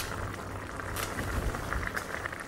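Vegetable stock with squash and pumpkin bubbling away in a pot, a steady soft simmering hiss with small pops, heard alone and close.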